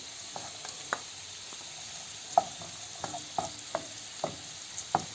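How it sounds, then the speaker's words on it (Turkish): Onions sizzle steadily in a hot pan, punctuated by irregular scrapes and taps of a utensil stirring, with no talking. "Bunu da biraz kavuruyorum."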